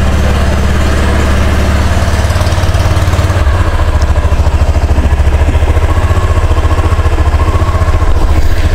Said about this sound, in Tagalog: pag unang start ng Honda Click, medyo mataas yung minor niya mga boss